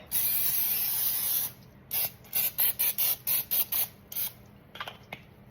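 A can of cooking spray hissing onto pans before homemade granola goes in: one long burst, then a rapid series of about nine short, even spurts and a couple of final puffs, close and fairly quiet.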